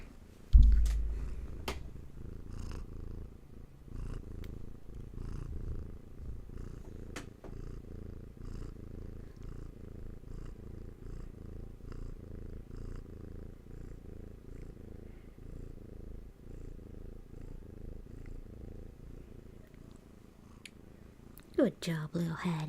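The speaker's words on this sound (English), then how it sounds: "Hattie the Reiki cat is purring." Hattie, a cat resting during a Reiki and crystals session, purrs softly and steadily in a close, low rhythmic rumble, with a louder thump at the start and a quiet voice speaking over it.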